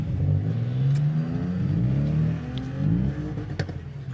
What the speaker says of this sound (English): Okay, they're off. Miata-chan and Borg just went downhill